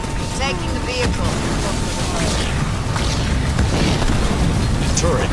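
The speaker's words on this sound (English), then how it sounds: "I'm getting pounded by artillery." Artillery shells pounding the battlefield in the Halo Wars 2 strategy game, a dense, continuous barrage of booms and bursts layered under game voices and combat noise.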